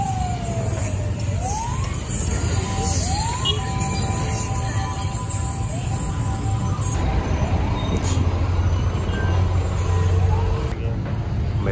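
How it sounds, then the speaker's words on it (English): An ambulance siren wails repeatedly through steady, dense Nairobi traffic noise, fairly loud and ongoing across the whole stretch, with engines and road rumble beneath it. "They should be excusing the ambulance."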